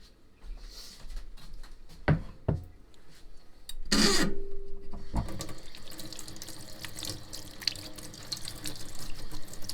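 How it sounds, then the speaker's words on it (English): Beef stew broth is poured into jars packed with stew for canning, liquid streaming and splashing in bursts with a few clunks of handling before and after. "We're going to get the broth in there."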